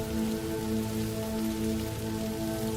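Gentle rain falls steadily on green leaves, a soft, continuous patter that holds an even level throughout with no voices.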